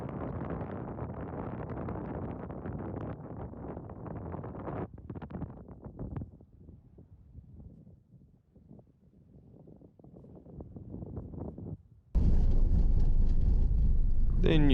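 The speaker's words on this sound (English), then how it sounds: "Just a shame the wind ruined the silence of this place." Wind gusting across a desert clay pan, loud rumbling buffeting against the microphone, easing to a quieter lull before a sudden strong blast at the end.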